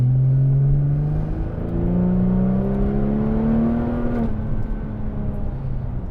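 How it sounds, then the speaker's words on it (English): A 2001 off-road vehicle with long-travel suspension drives up a tarmac airport taxiway, its engine humming and rising in pitch through gear changes, loud and close, with a steady rumble beneath. "So I'll just do a quick ride up the tarmac here and back,"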